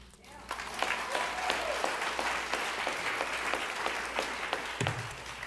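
Steady audience clapping at a Sacramento talk by the founder of a healing journaling organization, lasting several seconds in a large room with a few sharper individual claps standing out.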